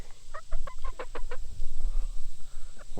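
A pretty chicken clucks up close, a quick series of short rhythmic clucks in the first second or so, then quieter shuffling and a final cluck.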